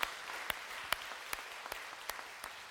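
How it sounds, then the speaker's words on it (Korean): Applause in a church during a Sunday service, a soft steady patter of many hands clapping with a few sharper individual claps popping out at irregular intervals, fairly quiet and diffuse across the room. "우리 박수를 격려하며 하나님께 영광을 드리겠습니다"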